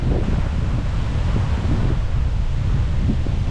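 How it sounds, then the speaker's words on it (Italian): Strong wind blows on a warm beach in Boracay, a dense, constant roar buffeting the microphone with no letup and no voices. "Guardate il vento che c'è."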